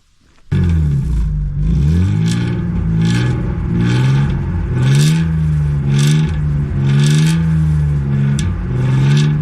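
A BMW E30 cabriolet with an M50B25 straight-six engine revs repeatedly, its pitch rising and falling in steady waves over a continuous idle, loud and close, with no voices.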